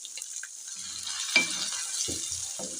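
Tomatoes frying in a pan with garlic and ginger give a steady, faint sizzle. A few soft spoon-stirring knocks sound nearby and no one speaks.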